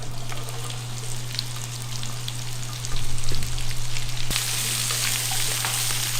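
Vegetables frying all at once in a shallow layer of chicken fat, giving a loud continuous sizzle and crackle that swells briefly midway, with a steady low hum underneath.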